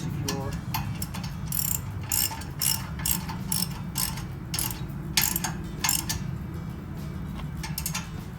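A ratchet tightens the fasteners on a Jeep hitch-mounted kayak rack, its pawl clicking in quick, steady bursts between brief pauses, loud and close.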